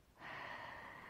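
Deep breathing during a Pilates reformer spinal twist, one long airy breath drawn in close to the mic, soft and steady with no talking.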